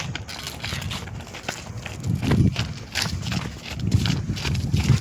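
Cow hooves clopping on cobblestone ground, an uneven series of hard knocks at moderate distance.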